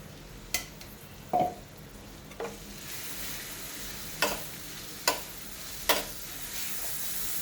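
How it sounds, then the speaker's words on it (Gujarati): Chopped onions sautéing in a pan, a soft steady sizzle with a handful of sharp utensil clicks and scrapes spaced a second or so apart. "ડુંગળીને બરાબર આપણે સાંતળીશું"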